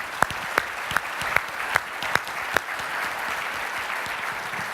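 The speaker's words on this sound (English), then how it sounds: "Please give him a hand." An audience applauds for a designer at a TEA Summit talk on Efteling's Symbolica, with steady, fairly quiet clapping and a few sharper claps standing out early on, then a dense, even patter to the end.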